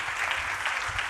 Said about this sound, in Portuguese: Pode aplaudir ele, amém?